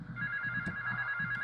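A telephone rings inside the video game GTA III, with a steady electronic ring tone running through the clip over low in-game background rumble.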